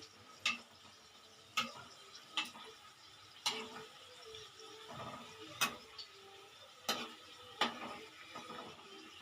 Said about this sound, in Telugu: ఆయిల్లో వేసేసేయాలండి కటోరీని